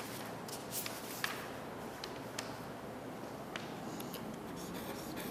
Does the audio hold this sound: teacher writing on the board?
yes